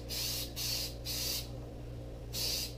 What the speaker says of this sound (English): using a spray can